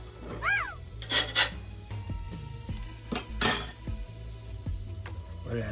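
Reuben sandwiches with kraut and slaw fry on a hot griddle, a quiet steady sizzle punctuated by scraping, a few metallic clinks and brief spatula sweeps, close and fairly soft.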